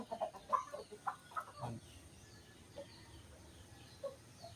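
Native chickens cluck and chatter in scattered bursts, moderately close, over a quiet outdoor background.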